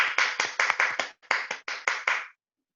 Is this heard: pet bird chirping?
no